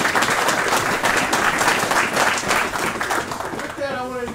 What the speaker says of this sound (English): Let's take a moment to give them all a round of applause.